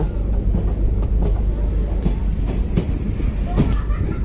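The DEMU Express 11415 on the Solapur to Hosapete line rumbles along loudly and steadily from on board, with rhythmic clicks of wheels over rail joints.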